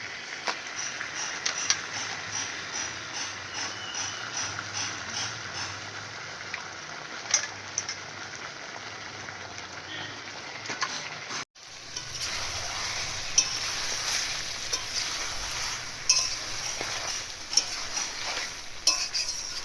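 Mutton being sautéed with spices in a pan at home, with steady sizzling and frequent clinks and scrapes of a spoon stirring against the metal pan, close and continuous.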